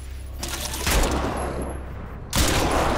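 Gunfire from the first-person shooter Crysis 2 ends in a headshot: dense, loud bursts of shots in two clear bursts with a sustained roar between them, and nobody speaks.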